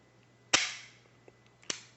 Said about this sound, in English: fire the shot